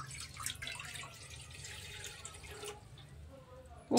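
Water splashes steadily into a cooking pan on the stove as palak paneer is being prepared, with a soft continuous pour and faint clinks throughout, ending in a brief louder knock.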